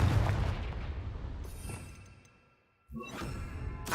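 A Confringo fire-spell blast in Hogwarts Legacy gives a deep booming rumble with a whooshing tail that fades into a brief near-silence, then another burst of noisy impact erupts and carries on.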